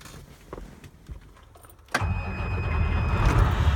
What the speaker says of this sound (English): Nice clean start. This engine is running very well.